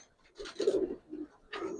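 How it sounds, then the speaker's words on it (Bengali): Giribaz and coloured fancy pigeons coo in short bursts, three or four soft, low throaty phrases close by with brief pauses between them. "আরে ভাই উপরে কত কবুতর রয়েছে"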